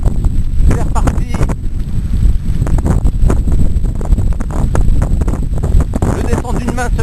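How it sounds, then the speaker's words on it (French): Strong wind roars across the microphone during a fast downhill bike descent, ridden one-handed at high speed, a constant loud buffeting rush that persists for the whole stretch with no spoken words. "Le vent souffle."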